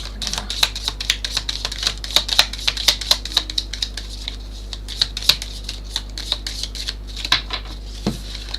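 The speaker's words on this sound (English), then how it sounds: "I'm gonna do another shuffle for Purnima." Tarot cards being shuffled in a rapid series of crisp riffling clicks and slaps, close and continuous, over a low steady hum.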